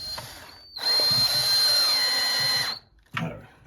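Cordless power drill whirring steadily for about two seconds as it drives screws into a wall to mount a wireless doorbell, loud and close, then a brief second burst after a short pause.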